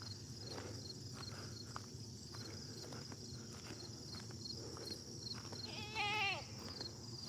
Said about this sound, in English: Oh, I heard a sheep.